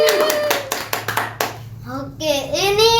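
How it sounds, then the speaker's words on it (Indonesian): Children clapping their hands together in a quick burst of rhythmic claps, followed by a voice speaking, close and clear. "Ayo kita tepuk tangan."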